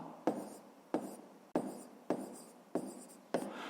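A pen writing on paper in a quiet room, six short scratchy strokes at a fairly even pace, each starting with a sharp onset and fading out, close and soft with no talking.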